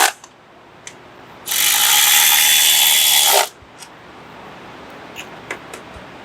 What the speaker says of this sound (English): Go ahead and tighten the bolts holding our coil packs in place.